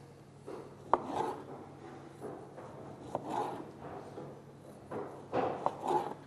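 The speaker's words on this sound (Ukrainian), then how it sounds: "Помідору нарізаємо кружельцями." A knife slicing a tomato into rounds on a cutting board, several soft separate cuts with light taps of the blade on the board, quiet and close.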